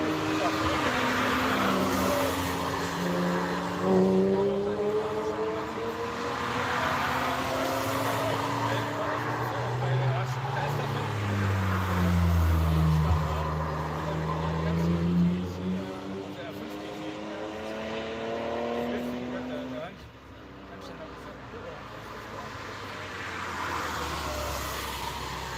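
A VW Golf driving a lap of the Nürburgring, its engine note rising and falling in long sweeping gear pulls with shifts, steady and close inside the car, with a voice talking over it at times.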